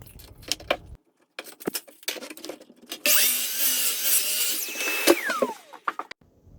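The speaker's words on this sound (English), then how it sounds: "I bring it over to my miter station and cut off all the material" Miter saw cutting Douglas fir boards in a workshop: a loud whining spin-up and cut of about two seconds that winds down in pitch, framed by clattering and knocking as the material is handled.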